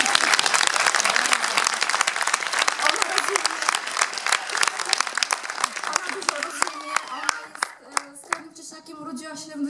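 Clapping breaks out for a little girl, first as dense lively applause, then thinning into scattered individual claps as voices start to come through underneath.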